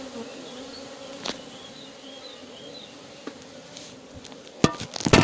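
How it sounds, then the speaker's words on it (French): Honeybees from a swarm being collected in Villabé buzz steadily around a beekeeper, a continuous close insect hum with a few sharp knocks and handling noises near the end. "Les abeilles me tournent autour mais ne m'attaquent pas vraiment."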